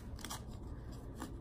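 Scissors snipping wilted leaves off a rare Hoya houseplant: two or three quick, close, quiet crisp cuts in a short burst, followed by one more snip, with no talking.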